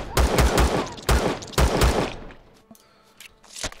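A cannon drone fires in the space-survival game Empyrion Galactic Survival, letting off three heavy, rapid bursts of gunfire before fading into a quieter hum of the game.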